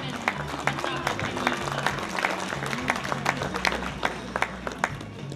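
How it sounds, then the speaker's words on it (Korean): A hall of guests at a welcome banquet for Korean and Thai athletes claps together, a lively patter of individual claps with distinct sharp hits running throughout, while a presenter's voice carries over it. "박수 부탁드리겠습니다"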